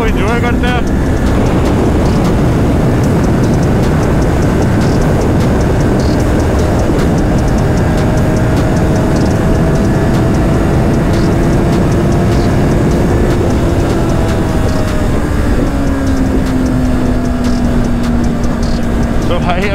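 A Kawasaki motorcycle, a Z900 fitted with a wide 200-section rear tyre, is ridden on the road with a steady loud engine drone and rising, falling pitch as it shifts through gears, with wind noise and a rider talking over it.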